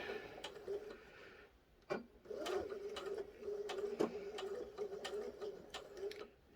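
A sewing machine stitches a small lip balm pouch with a steady mechanical whir and rapid rhythmic ticking. It halts briefly near the two-second mark, then resumes with occasional louder clicks, close up with no talking.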